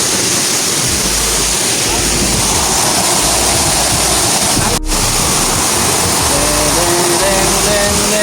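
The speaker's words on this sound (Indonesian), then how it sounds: "Air terjun ya." A mountain waterfall on a trek in Trenggalek, Indonesia, roars as a loud, steady wash of rushing water that fills the whole clip without a break.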